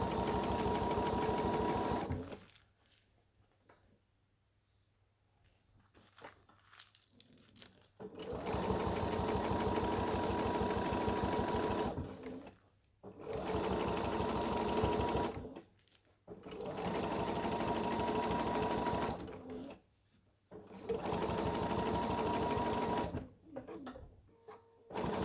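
A sewing machine stitches fabric layered under tissue paper while making a bag, running in several steady bursts of close, rapid stitching separated by short quiet pauses.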